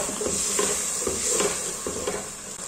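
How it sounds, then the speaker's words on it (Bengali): Spices for chicken biryani being stir-fried in hot oil, with a steady bright sizzle and soft scraping strokes of a spatula recurring every half second or so, close and continuous, no voices. "এখন মশলাটা ভালো করে কষিয়ে নেব"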